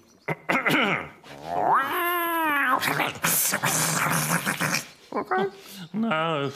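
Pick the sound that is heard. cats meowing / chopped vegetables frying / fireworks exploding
cats meowing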